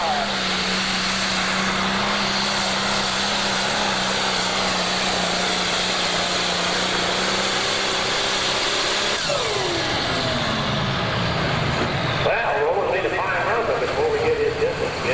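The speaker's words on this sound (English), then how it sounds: "this guy pulls with a John Deere" A John Deere pro stock tractor at a 1988 Ohio State Fair tractor pull roars loudly and continuously, its engine pitch holding steady and then shifting and sweeping near the end.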